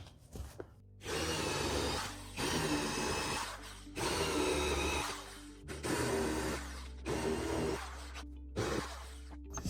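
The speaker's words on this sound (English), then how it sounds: "so now I drilled the holes with a small drill bit. Now I'm gonna use the bigger one" A power drill with a larger bit bores holes in an inflatable boat's transom for mounting wheels: five close, loud, whirring bursts of a few seconds each, separated by short pauses.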